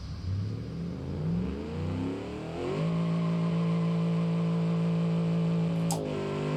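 Car engine in the BeamNG.drive driving game revving up during a top-speed run, a steady loud drone that climbs in pitch through gear changes, then holds a sustained high tone near the end.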